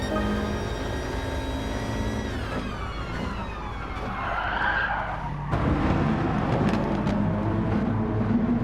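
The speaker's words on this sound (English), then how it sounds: "that is Harry Cooke getting sideways, and he's made a mistake and he spins out" Sideways slide and spin of a race car at Lago Maggiore in a racing video game: a loud, continuous tyre skid with engine tone sweeping down, then a harsher scrubbing roar as the car spins, all close and without talk.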